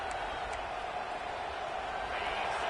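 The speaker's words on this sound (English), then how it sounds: "Listen to the crowd energy here in the early going." A football stadium crowd roars and cheers in a steady, dense wall of sound early in the game, with a couple of faint sharper shouts standing out.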